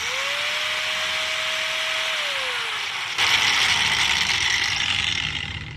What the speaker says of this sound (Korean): 이게 이제 일반 그라인더예요. 켜자마자 거의 최고 RPM까지 올라갑니다.